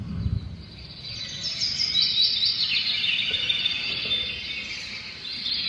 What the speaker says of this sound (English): He was surprised to hear birds singing.